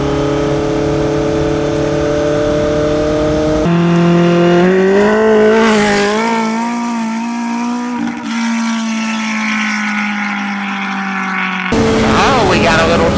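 A 7-second street-legal drag motorcycle screams at high RPM under wide-open acceleration, loud and close, with several rising engine sweeps broken by quick gear shifts, the pitch dropping and climbing again with each shift.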